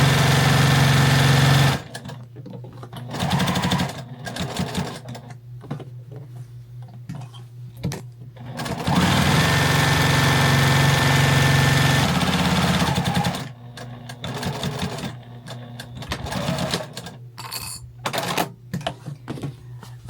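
A sewing machine stitches around stacked fabric layers of a small flag, running in several loud, rapid stretches with short pauses and quieter clicks between them.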